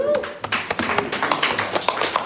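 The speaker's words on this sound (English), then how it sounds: "let's give these strong brothers a round of applause." Crowd applause at an outdoor community gathering at George Floyd Square, a modest group clapping in uneven, distinct bursts with a few louder claps standing out, close and somewhat sparse, with faint voices mixed in.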